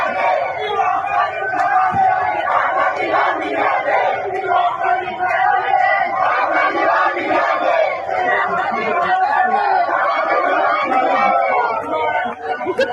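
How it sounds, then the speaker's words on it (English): A large crowd of protesters in Iran chants and shouts in unison, a loud continuous roar of many voices with rhythmic swells throughout. "Look at the crowd."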